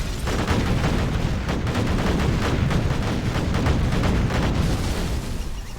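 Artillery and gunfire in the video game Command & Conquer Generals, a dense, continuous barrage of booming blasts and rapid shots layered into a loud rumbling battle din, with no talking.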